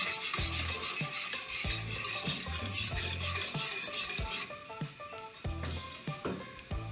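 A spoon scrapes and clinks around a pan as a light cheese cream sauce is stirred to melt butterkäse cheese into it, with rapid rhythmic metallic taps and a low simmering sizzle underneath, close and continuous.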